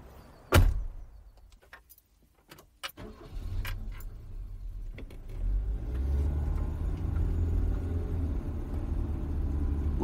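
A car door clunks shut with a couple of sharp knocks, then the engine's low rumble swells and holds steady as the car pulls off, with no voices.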